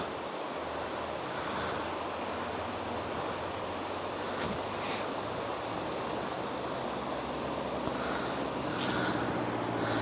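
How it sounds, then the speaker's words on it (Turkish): A rushing mountain stream in the Aydın hills keeps up a steady, even roar of flowing water outdoors, unbroken from start to finish, with some faint wind. "Gürül gürül akan bir dere."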